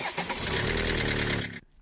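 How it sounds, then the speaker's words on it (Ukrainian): A car engine cranks on a Bosch S5008 77Ah battery and catches, then runs with a loud, rough mid-range roar for over a second before cutting off abruptly. "зараз спробую запустити двигун з підключеними форсунками"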